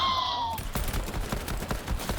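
Rapid shotgun blasts in a first-person video game, several sharp reports in quick succession after a brief tone, loud and close with no talking.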